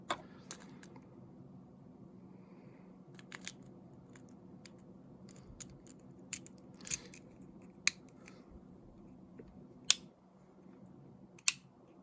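An electrical switch is clicked repeatedly, giving sharp, isolated clicks spaced irregularly over a quiet background hum. The clicks sound crisp and close.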